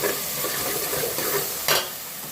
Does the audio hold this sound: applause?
no